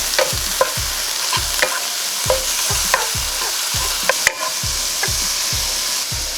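Chicken seasoned with black pepper, salt, onion powder and garlic powder sizzles steadily in a pan while a utensil stirs it, giving a regular series of close scraping knocks about every half second over the constant frying hiss.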